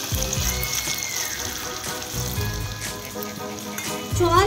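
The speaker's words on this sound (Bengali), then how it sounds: "জল দিয়ে চিকেন মশলা আর সব কিছুকে মিশিয়ে নিচ্ছি।" Water is poured into chicken masala frying in a pan for chicken bhuna, producing a loud sizzling hiss with splashing and scraping as it is mixed.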